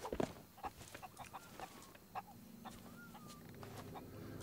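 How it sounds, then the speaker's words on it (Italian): Chicken in the pirate video game Sea of Thieves, heard as a series of short, quiet clucks and squawks scattered over a soft ambient game background, with no talk. "Oh no, un gallina."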